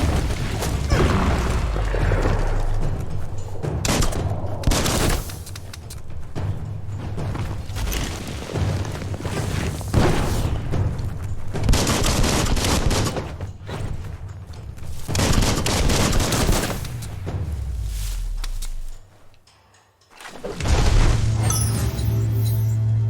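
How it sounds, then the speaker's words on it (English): Gunfire and booming blasts fill a fight in Biomutant, with repeated loud volleys and explosions in uneven bursts, a brief near-silent gap before the noise returns. "Bullets everywhere."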